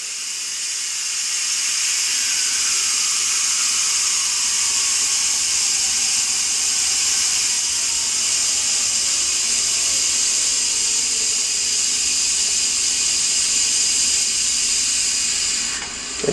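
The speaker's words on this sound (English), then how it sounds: "You can let it subside a little bit more to get rid of any residual steam." A Lagostina pressure cooker letting off residual steam, a steady loud hiss that holds evenly for about fifteen seconds before cutting off abruptly at the end, with no voices over it.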